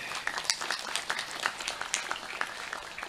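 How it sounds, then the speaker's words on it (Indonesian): Scattered applause from the audience at an outdoor Islamic sholawatan gathering in Plumbon, fairly faint and somewhat distant, with individual claps standing out in an uneven rhythm for a few seconds. "tepuk tangan ini"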